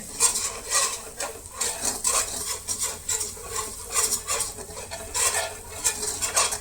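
A utensil scrapes and clinks in rhythm in a pan as spices are stirred into butter, with a soft sizzle underneath, close and fairly quiet.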